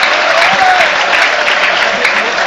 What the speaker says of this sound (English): the crowd are really buzzing here at the Jatemans